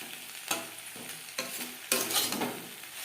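Onion stalks fried with salt in a pan over a gas flame crackle steadily while a spatula scrapes and tosses them in about four distinct strokes, close and fairly loud, no voices.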